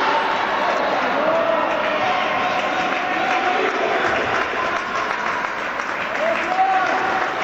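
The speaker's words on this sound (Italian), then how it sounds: "Applausi, tutti applaudono questa gagliarda padana" Sustained applause from the crowd at a women's Serie A match between Casalgrande and Leno, a dense steady clapping that fills the whole span, with a commentator speaking over it.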